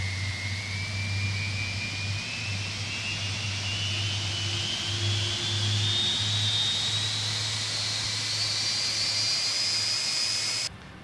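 The Rolls-Royce engines of a PMDG 747-400F freighter spool up in the Prepar3D flight simulator, a steady low rumble under a high turbine whine that climbs in pitch for about ten seconds before cutting off.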